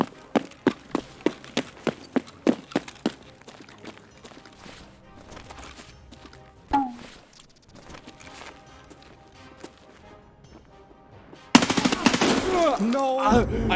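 Gunfire in Escape from Tarkov on the Interchange map: a string of sharp, evenly spaced shots in the first seconds, then a quieter stretch and a loud burst of noisy action near the end.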